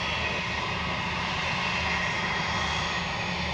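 Jet airliner taking off from runway 25 at Montego Bay, Jamaica, a loud continuous engine roar and rushing hiss holding steady throughout, heard alone with no talk.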